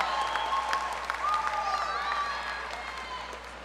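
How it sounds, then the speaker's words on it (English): Audience applause for graduates at a university commencement ceremony: steady, dense clapping from a large crowd that fades slightly toward the end. "Let's give a round of applause to the graduates of the Bachelor of Science in Real Estate Development."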